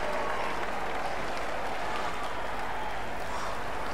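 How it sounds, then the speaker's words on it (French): A crowd applauds a time trial rider on the start ramp in a Tour de France cycling video game, a steady, dense wash of clapping that holds at an even level for the whole stretch, with no speech. "Allez, on l'applaudit bien fort."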